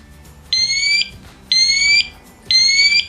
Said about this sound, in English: You will hear the smoke detector give the alarm.